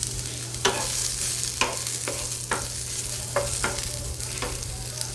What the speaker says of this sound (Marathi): एक मध्यम आकाराचाच कांदा घेतलेला आहे उभा चिरून, तर तो भाजून घेते आधी